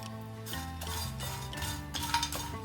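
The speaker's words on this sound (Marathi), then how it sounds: "आता ना आपल्याला दालचिनी भाजून घ्यायची आहे." Cinnamon pieces dry-roasting in a pan for homemade garam masala, with light clinks and scraping as they are stirred over a steady tonal background hum, moderately quiet and continuous.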